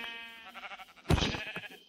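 Sheep bleating in the Minecraft video game, a few short wavering bleats rising to one louder, close call near the end, with no talk over them.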